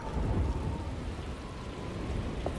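Heavy rain and low rumbling thunder of an approaching thunderstorm in the video game Alone in the Dark, a continuous dense wash of rainfall with deep rolling rumble, steady and enveloping with no voices.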